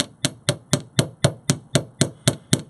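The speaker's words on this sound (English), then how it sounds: "I'm going to hammer this out a little bit just to kind of planish that loop there." A hammer planishes a wire horseshoe connector loop with about ten sharp, evenly spaced metallic taps in a steady rhythm. The strikes are close and loud, with no talking.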